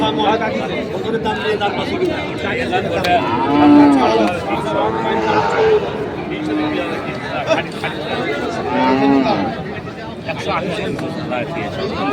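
Cattle moo repeatedly at a crowded livestock market where bull cattle are being bought, the low calls rising over constant chatter and bargaining voices throughout.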